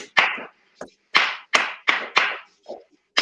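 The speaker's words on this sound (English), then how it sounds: "That church clap for you." Close church-style hand clapping by a single person in an uneven rhythm, loud claps interspersed with a few softer ones and short gaps, with no voices.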